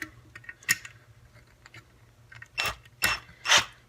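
A SnapFresh 20V cordless drill driver backs out a screw: sparse mechanical clicks and ratcheting taps, then three louder whirring bursts close together near the end, with no talk.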